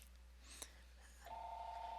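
A Google Voice call rings through on a phone as a faint, steady electronic tone that starts partway in and holds, heard quietly in the background with a small click before it.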